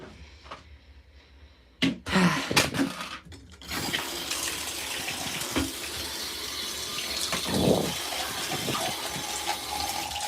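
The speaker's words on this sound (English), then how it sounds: "I'm gonna rinse that out before I put that in there" Tap water runs steadily into a sink while a shirt is rinsed by hand, with a few louder splashy bursts early on and a continuous close gush afterward.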